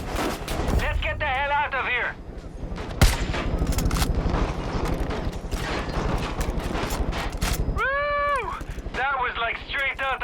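Loud, dense gunfire and blasts fill a firefight in the video game Far Cry New Dawn. Rapid bursts run continuously, with rising and falling wailing tones layered over the top.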